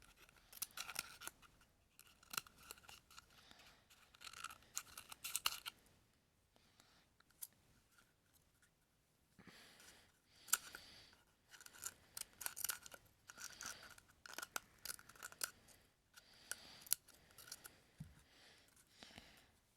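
Scissors snip through paper while a paper plane's cockpit piece is trimmed, a close, quiet series of crisp cuts in irregular bursts with short pauses between.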